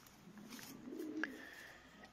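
A fancy pigeon coos softly once or twice, faint and close, with a brief chirp in a quiet room.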